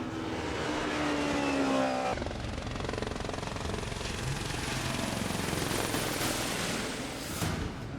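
A lightweight classic racing car engine roars and drones steadily at the Simola Hillclimb, revving hard as it climbs, with a brief gear-change shift early on and a sustained high whine.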